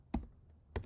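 Two separate keystrokes on a MacBook Pro keyboard while entering an SSH command in a terminal, each a short, soft, close tap with a brief quiet gap between them.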